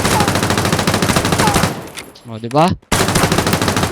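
Rapid gunfire from a dual TMP fired on a macro in the shooter game Knives Out: a dense, loud stream of shots, then a short pause and a brief spoken voice before the firing resumes.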